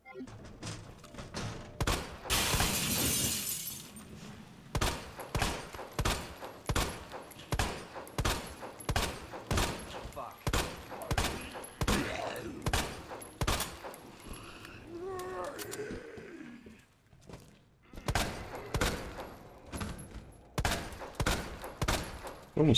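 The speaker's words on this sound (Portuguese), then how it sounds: "Escutando esse tiroteio todo." Bursts of gunfire in Resident Evil 2 Remake, sharp repeated shots and volleys in irregular clusters, loud and close, with some game sound effects in between.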